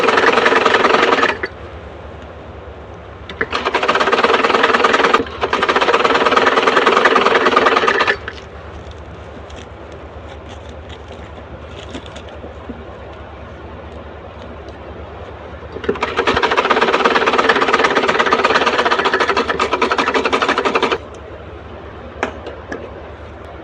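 A sewing machine stitches a matching fabric strip onto a small Bal Gopal dress, running in three loud, steady whirring bursts separated by quieter pauses.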